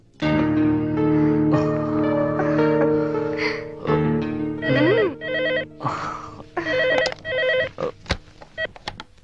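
A telephone rings in a Telugu movie scene, a loud, sustained, tonal ring with a rich harmonic buzz, followed by shorter tonal bursts and a few sharp clicks, with no speech.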